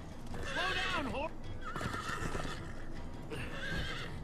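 A horse in Minecraft: Story Mode whinnies loudly, followed by another neigh and a third shorter whinny, with hoofbeats and busy background noise underneath.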